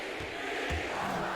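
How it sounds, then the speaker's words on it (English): Crowd chanting in an NBA 2K22 basketball game, a broad roaring arena wash with rhythmic swells and a dull thump, steady and fairly loud. "Chants from the crowd."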